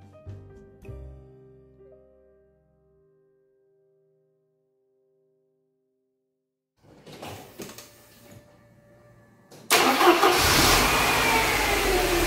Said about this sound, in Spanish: Y ahora necesitamos arrancar el motor.